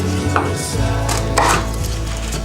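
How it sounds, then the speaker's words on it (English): Knife slicing through a fresh pineapple on a cutting board, heard as several close, firm chopping cuts with a steady low hum in the background and no talk. "I'm gonna slice my pineapple"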